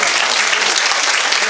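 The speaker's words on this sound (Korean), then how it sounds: "여러분 박수를 치려면 크게 쳐주시기 바랍니다." An audience at an inauguration ceremony for the new chairman and board director of a memorial society claps in a loud, dense, continuous burst of applause.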